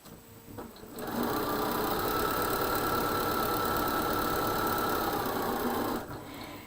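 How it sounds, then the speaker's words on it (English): Sewing machine stitching a quarter-inch seam on a quilt border, starting after a second of quiet, running in a steady loud continuous whir for about five seconds, then stopping, with no voices. "So now I'm going to sew my 1/4 inch, pretty much following my 1/4 inch on my mat"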